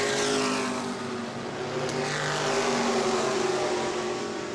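Race cars circling the New Smyrna oval in a Hoosier Series event, a continuous loud roar of engines holding steady throughout with no pause, the pack running close together.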